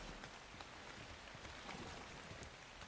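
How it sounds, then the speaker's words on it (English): Rain falls outside in the video game ARK: Survival Evolved on the Valguero map, a faint, steady hiss of drops that stays even and distant throughout. "I think it's just the rain, but still."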